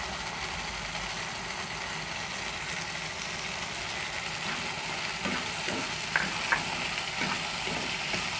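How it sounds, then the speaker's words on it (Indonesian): Chicken with ground spice paste of salt, sugar and mushroom stock sautéing in a pan, a steady broad sizzle throughout with a few light stirring scrapes and clinks near the end, close and even, no talking. "Kita tumis sampai wangi,"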